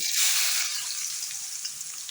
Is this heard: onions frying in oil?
yes